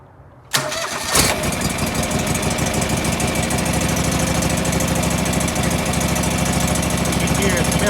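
A John Deere 445 lawn tractor engine misfiring on one cylinder cranks and catches, then runs steadily at close range with a rough, uneven pulse in its idle.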